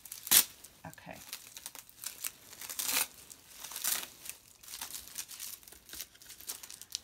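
Packing tape crackles and tears from a cardboard shipping box in a series of crinkly rips and crunches, close and moderately loud, with a louder tear near the start and quieter rustles after.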